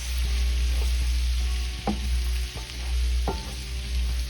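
Garlic sizzles steadily in a hot pan, close and fairly loud, with a few sharp utensil scrapes and taps against the pan along the way and no talking.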